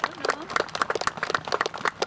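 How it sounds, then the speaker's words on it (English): Audience applause honoring ex-servicemen at a Bataan commemoration program in 2013, sounding as steady, rapid clapping from a crowd with no talk over it. "Let's honor all of you with a round of applause for those folks."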